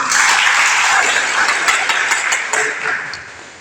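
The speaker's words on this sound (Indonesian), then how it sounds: "Kasih tepuk tangan." Applause from an audience at an Indonesian cooperative training gathering in Bandung, a dense wash of many hands clapping, loud at first and gradually thinning out with a few scattered claps near the end.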